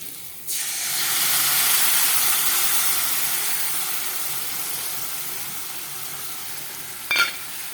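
Eggplant slices fry in a pan, a sudden loud sizzle bursting in after a brief quiet start, then a steady hiss that slowly eases, with one short sharp clatter near the end and no talk.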